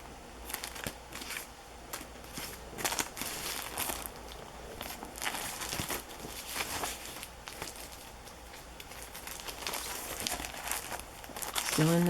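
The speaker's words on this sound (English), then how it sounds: "There's some tissue paper." Tissue paper from a flea-market haul crinkles and rustles as it is handled, a soft continuous papery crackle with a few sharper crunches, close up and fairly quiet.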